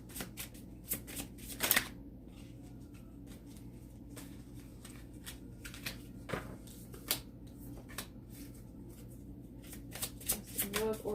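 Love oracle cards shuffled by hand, giving soft, intermittent riffling and slapping sounds at close range over a low, steady background hum.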